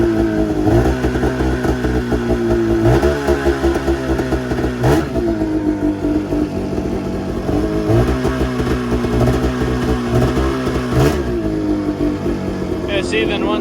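Arctic Cat Mountain Cat snowmobile engine running loud and steady at a rough idle, with several sharp revs rising and falling at intervals while a person speaks over it.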